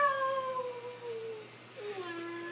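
A child doing yoga imitates a cat's meow with a drawn-out, falling vocal whine followed by a second shorter meow, close and clear.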